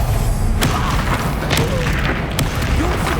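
Confringo fire spell blasting in the Hogwarts Legacy video game: a sustained low booming roar with a few sharp explosive cracks bursting over dense rumbling battle noise.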